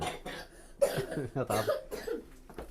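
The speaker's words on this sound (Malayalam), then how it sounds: "ഇങ്ങനെ ചുമയുള്ളവൻ എങ്ങനെ ടൂർ പോവുക" A person coughs in several rough bursts spaced through a couple of seconds, fairly quiet and close, with no talking over it.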